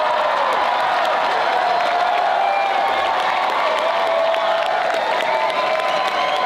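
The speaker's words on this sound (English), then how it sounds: "the crowd went wild over that concept of shutting down the CBC and making it residential housing for people" A political crowd cheering and applauding at a rally, a continuous dense roar of clapping and whoops held at a steady, loud level throughout.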